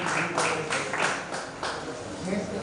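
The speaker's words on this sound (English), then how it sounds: "Please clap." Applause from an audience at a creative writers' and readers' bootcamp, greeting a certificate recipient: dense, steady clapping from many hands, moderately loud and sustained throughout.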